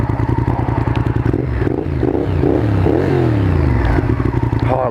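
A motorcycle engine runs close by with a loud, throbbing, lumpy idle that swells into a few revs in the middle before settling back to a steady rhythmic putter.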